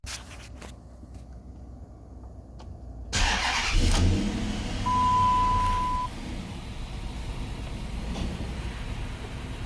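A 2005 Dodge Magnum with the 5.7 Hemi V8 cranks briefly and then catches. It settles into a steady, close, rumbling idle with a brief rise in revs, alone with no talking.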